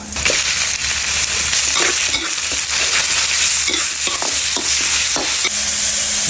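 Minced pork stir-frying in hot oil with chili and garlic for Thai basil stir-fry, a loud steady sizzle broken by the scrape and clatter of a spatula stirring, with no talking.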